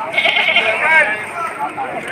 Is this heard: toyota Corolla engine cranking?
no